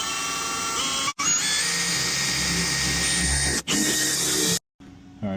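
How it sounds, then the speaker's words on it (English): Power drill with a carbide-tipped bit boring knockout holes, a loud sustained high whine in long runs, briefly cutting out twice before stopping, with a fainter tail at the end. "we're going to use this carbide tip bit to drill these out"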